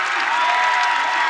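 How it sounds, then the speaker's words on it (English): A high school basketball crowd in a gym bursts into loud, dense applause and cheering after a three-pointer, a steady wash of clapping and shouts throughout. "That ignites this crowd."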